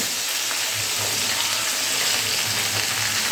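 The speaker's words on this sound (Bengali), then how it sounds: "এবারে তেলের সঙ্গে কাঁচা লঙ্কাগুলো একটুখানি ভেজে নিয়ে এর মধ্যে দিয়ে দিতে হবে আগে থেকে কেটে রাখা সেই লাউ" Green chillies and chopped bottle gourd frying in hot oil in a Bengali home kitchen, a dense steady sizzle with faint stirring scrapes, close and continuous with no voices.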